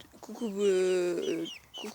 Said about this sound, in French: Donc là j'ai sorti mes petits poulets